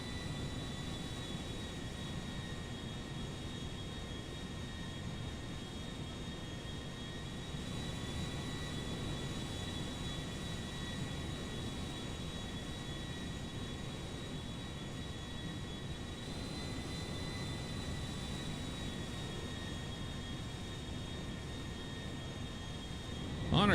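An Airbus A340-300 jet climbing out after takeoff from Los Santos International Airport in GTA 5, a steady broad engine roar with sustained high whining tones, continuous and fairly loud.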